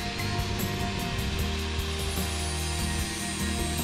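A bench grinder running without its guard sharpens rototiller tines, making a continuous loud whirring grind with a bright, gritty hiss that holds steady throughout.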